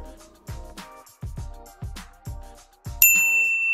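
A notification bell sound effect: a run of short percussive plucked tones, then a bright bell ding near the end that rings on with a long sustained tail, loud and clean with no talk.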